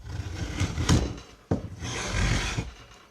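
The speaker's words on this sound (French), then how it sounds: "la platine vient se plaquer au sol et la lame ressort que très très peu, et ça va permettre d'enlever les copeaux" An old hand plane shaves wood off the edge of a sticking door in two long rasping strokes, close and scratchy with a short knock between passes and no talk.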